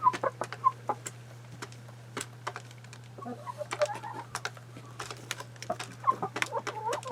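Leghorn and red sex link chickens cluck in short, scattered bursts around an automatic feeder, with sharp pecking taps and a steady low hum underneath.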